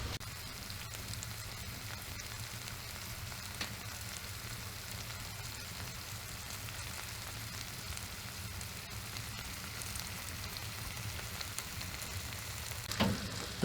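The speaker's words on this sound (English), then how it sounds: "The little steak is cooking a lot" Beef steak sizzles steadily over an extremely hot campfire on a solo winter trip, a dense continuous crackle and hiss with occasional sharper pops, close and fairly quiet, no voices.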